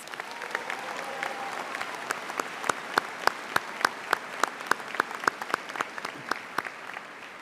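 Applause from the crowd at a spring College of Engineering commencement ceremony, a continuous rattle of clapping with sharp individual claps popping out in a quick irregular rhythm.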